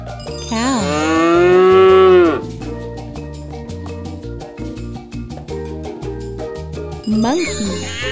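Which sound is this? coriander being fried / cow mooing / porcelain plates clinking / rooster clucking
cow mooing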